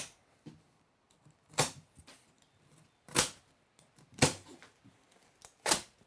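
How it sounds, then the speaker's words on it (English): A knife slices through the plastic straps on a cardboard box holding a 2022 Surface 604 Twist bike. Four sharp, crisp snaps come at irregular intervals, with quiet rustling between them. "we're going to take your knife and we're going to cut straps."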